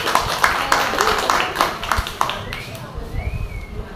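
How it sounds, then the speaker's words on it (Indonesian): A church community group on a retreat at Leebong Island claps together, a run of quick, brisk, fairly close hand claps that thins out and fades toward the end. "tepuk tangan dulu dong"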